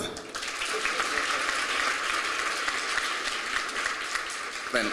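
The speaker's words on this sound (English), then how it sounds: "Can you clap properly?" An audience at a heritage education colloquium bursts into sustained applause, a dense steady patter of many hands clapping close by, holding evenly for several seconds before briefly swelling at the end.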